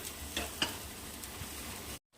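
Kabuli chickpeas being stirred in a frying pan for usal, a soft scraping with a few sharper taps over a faint steady sizzle, close by and fairly quiet.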